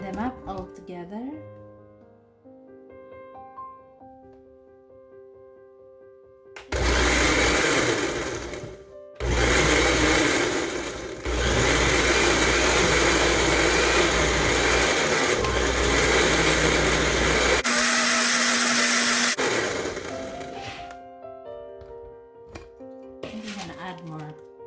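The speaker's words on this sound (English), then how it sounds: "Blend them up all together." A kitchen blender whirs loudly through spinach crepe batter in several bursts with brief pauses between, while background music plays softly before and after.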